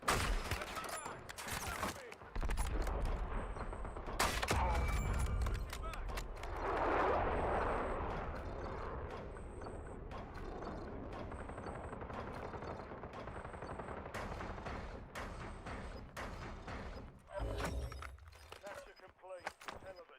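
Bursts of automatic gunfire and scattered shots crackle through a Call of Duty Warzone match, with loud volleys early and sporadic firing later, mixed with game effects and a player talking over it.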